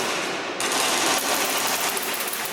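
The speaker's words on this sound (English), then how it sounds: "A whole lot of test fire going on" Speedball paintball markers test fired at a European tournament field: rapid, dense bursts of popping shots overlapping into a continuous rattle after a brief quieter start, fairly loud and close.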